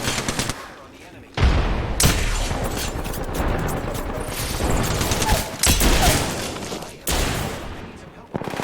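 Rapid automatic gunfire rattles in bursts through an Apex Legends firefight, loud and close, with a brief lull early on before the shooting resumes and runs almost continuously.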